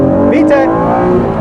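A 1991 right-hand-drive JDM Honda NSX pulling hard in first gear, its close engine note rising in pitch over a brief burst, with a voice briefly over it.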